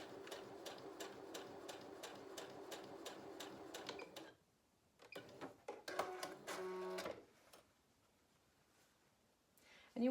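Sewing machine running a line of rapid, rhythmic stitches for about four seconds, then short bursts of stitching and mechanism clicks, close and fairly quiet.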